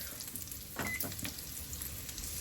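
Food for barbecue baked black-eyed peas cooks in a pot on the stove, giving a faint, steady sizzle and bubble with a brief, slightly louder stirring rustle near the one-second mark.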